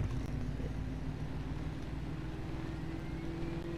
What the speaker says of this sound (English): You hear the turbo?